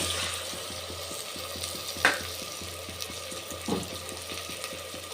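Tomatoes cook in a clay pot with a steady, close sizzle and bubbling, a regular soft ticking pulse underneath and a couple of brief clinks of stirring.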